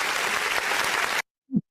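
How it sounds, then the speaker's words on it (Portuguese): Applause from an audience cheering opposition deputies and senators, a dense steady clapping that fills the space and then cuts off abruptly, followed by a short isolated low sound. "Vocês têm que aplaudir os deputados e senadores porque eles estão dando um show."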